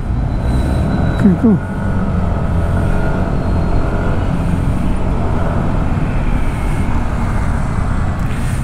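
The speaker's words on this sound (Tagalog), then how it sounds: "Grabe ang traffic dito." Road traffic in Lipa, Batangas: a constant low rumble of idling and creeping vehicles, close and steady, with a brief higher engine whine early on and no talk.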